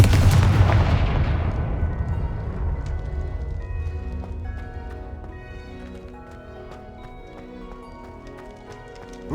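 A Confringo fire spell blasts in Hogwarts Legacy, a loud booming burst at the start that rolls off into a long ringing decay, with game music tones continuing beneath and a brief sharp hit at the very end.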